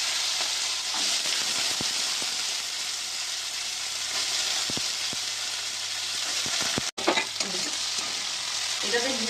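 Soaked chickpeas fry with bay leaf, cinnamon and spices in a pan, giving a steady, loud hiss with a few sharp clicks and scrapes of stirring near the end.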